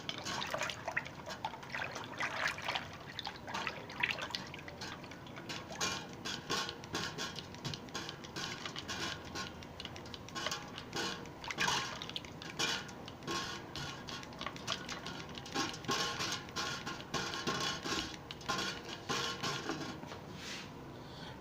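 Lassi being stirred in a bowl, giving close, continuous liquid sloshing and light clinking of the utensil against the bowl in a rapid, even rhythm without any talking.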